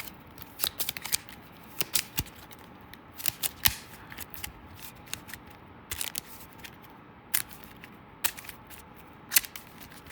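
Target cards for the Eagle Leader board game being shuffled by hand at close range, a steady run of crisp riffling flicks and snaps with short pauses between bursts, no voices.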